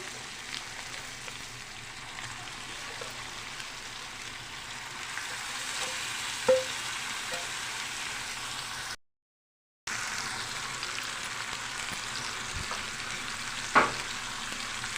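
Marinated chicken coated in masala fries in a pan for an Andhra-style chicken curry, with a soft continuous sizzle and occasional scrape of stirring, one short gap midway.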